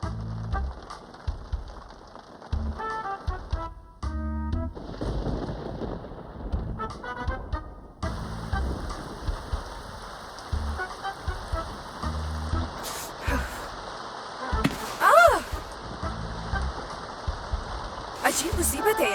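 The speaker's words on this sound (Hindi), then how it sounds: "ये बारिश भी अभी होनी थी।" Rain patters steadily on surfaces while birds coo and call intermittently, with faint voices and scattered louder drips throughout.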